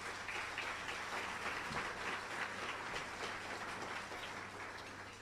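Audience at a 2023 State of the District address giving a round of applause, dense steady clapping from a crowd, distant and even throughout.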